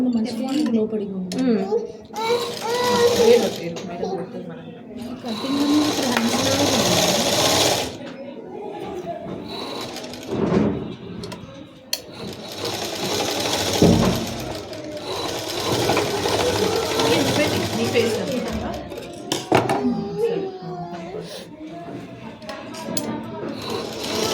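A sewing machine stitches a cloth face mask during a tailoring lesson. It runs in several bursts of steady mechanical whirring, stopping and starting over about twenty seconds, and a person talks between and over the runs.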